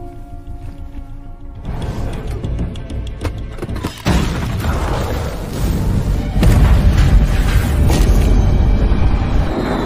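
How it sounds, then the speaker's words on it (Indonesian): A bomb aboard a hijacked Korean Air Lines plane in 1971 erupts in a deep, rumbling blast that rolls on into a loud, sustained roar of turbulent noise that keeps building. "Bom itu pun meledak dan pesawat hilang kendali."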